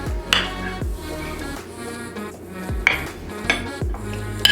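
Brie cheese being scooped makes soft scraping and clinks of utensil on dish, with a few sharper knocks spread across the moment, close and moderately loud over a faint kitchen sizzle.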